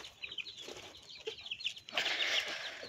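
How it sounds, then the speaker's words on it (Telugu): Chicks cluck and peep softly while eating, a faint scatter of small chirps close by, with a brief rise in rustling noise near the end. "కోడి పిల్లలు ఏం చేస్తున్నాయి చూద్దాం."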